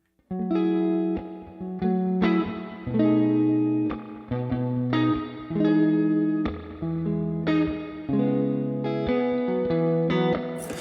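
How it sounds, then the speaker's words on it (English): Electric guitar chords played through an amp's spring reverb ring out one after another, each sustained and washed in a lingering reverb, played clearly with no voices. "it's got a very nice sounding spring reverb"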